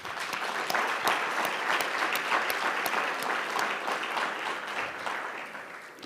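Sustained applause from a large audience at a regional address by the Metro Council president, a dense, even wash of clapping that holds steady for six seconds and tapers slightly at the end.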